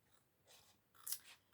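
Paper trimmed with scissors while making a circular craft pouch, two quick, faint snips close by against a quiet background.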